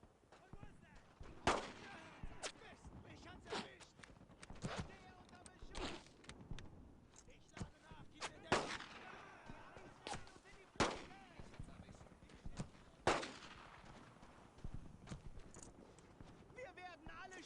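Covering gunfire crackles in the World War II shooter Brothers in Arms: Earned in Blood, a series of sharp, separate shots spaced a second or two apart at moderate distance, with voices calling out amid the fighting.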